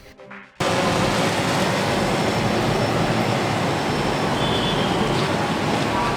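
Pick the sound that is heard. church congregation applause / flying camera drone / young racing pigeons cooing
flying camera drone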